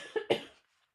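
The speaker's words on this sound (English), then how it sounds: "Sorry, I had a little cough." Two quick, close coughs in a row, the second slightly stronger, then a short fade into silence.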